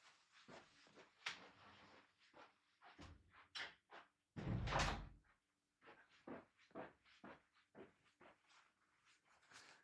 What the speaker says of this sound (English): Just gonna shut my door.